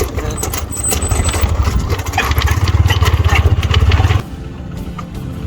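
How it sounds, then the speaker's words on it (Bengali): A motorcycle engine strains along a sandy path on a river char island, a close, loud pulsing drone that cuts off abruptly near the end, leaving quieter background noise. "চরের বালুময় পথে বাইক চালাতে বেশ বেগ পেতে হচ্ছিল"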